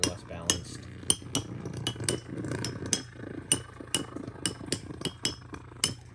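A metal Beyblade with an EWD tip spins in a stadium, rattling and clinking with sharp metallic ticks at a quick, irregular rhythm over a low hum.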